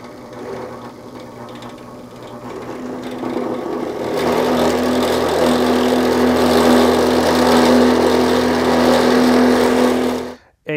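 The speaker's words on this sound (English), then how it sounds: "we're gonna start up the drill press, so it might be a little noisy" A drill press motor starts up and runs with a steady humming whine close by, then cuts off abruptly at the end, punching through material for a camera slider dolly.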